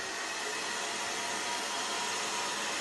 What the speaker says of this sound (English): Okay, turn on the hairdryer.